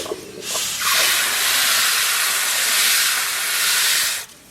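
Fried lentils for a village-style dal hiss sharply as water goes into the hot pan, a loud, steady, close-up rush of steam lasting a few seconds before cutting off abruptly.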